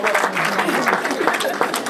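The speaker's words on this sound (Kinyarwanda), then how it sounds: "amashyi menshi dushimire ababyeyi" Dense, steady applause from a wedding audience during a gift presentation, many hands clapping together at close range and filling the whole moment without pause.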